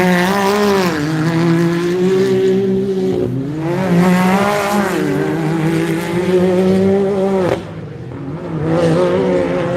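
A race car at the Loveday 400 takes a left-hand hairpin, its engine rising and falling through gear changes and revs. The note is loud and close, and it drops away briefly before picking up again.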